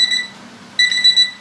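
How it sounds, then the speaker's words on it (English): A kitchen timer beeps in short repeated bursts, pauses, then starts again, clear and close, while okra pickles are being canned. "Okay, the timer is going off."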